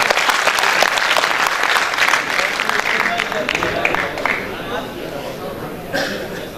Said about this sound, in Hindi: आप इस्तकबाल कीजिए अपनी तालियों की गड़गड़ाहट से